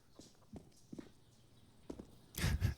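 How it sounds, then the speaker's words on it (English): Footsteps in Counter-Strike on the Inferno map, a few soft, sparse steps at an uneven pace, quiet and somewhat distant, closing with a louder scuffing burst. "Hearing some footsteps"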